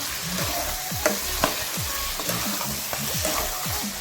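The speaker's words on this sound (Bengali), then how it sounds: "ধুয়ে রাখা চিকেনটা সব মশলার সাথে খুব ভালো মতো মিক্স করে দিচ্ছি" Chicken being mixed with spices and sautéed in a pan for doi chicken, a steady sizzle of frying under repeated scraping stirs, close and moderately loud throughout.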